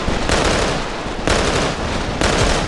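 Burst fire from an assault rifle in the mobile shooter Tacticool, dense loud volleys of rapid shots that start again roughly every second with brief dips between bursts.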